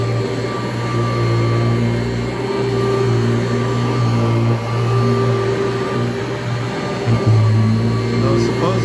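A Kirby Heritage vacuum cleaner runs with a loud, steady motor drone and whine, continuous and close, with small bumps as it is pushed along.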